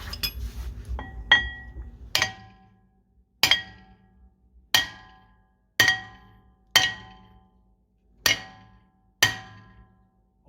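Sharp metallic hammer strikes ring off the brake rotor of a 2007 Shelby GT500, about eight evenly spaced blows, each with a bright clanging decay, close and loud with no talk.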